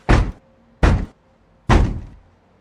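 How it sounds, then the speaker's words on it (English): Three heavy knocks land on a door, the first two close together and the third after a pause, each a loud, booming thud that fades quickly in a quiet room. "when I heard the knock at my door"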